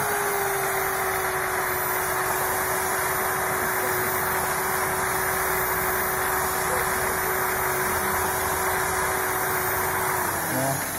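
A drill motor runs steadily to spin and clean hydroponic net pots, giving a constant loud whine and hum for the whole stretch with no break.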